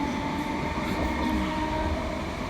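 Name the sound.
electric passenger train departing station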